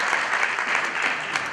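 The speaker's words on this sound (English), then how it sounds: "Big clap to all the team." An audience at an engineering symposium gives a short burst of applause, even and sustained clapping heard alone for under two seconds.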